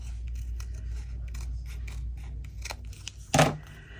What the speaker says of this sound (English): Okay, then we want to trim this off.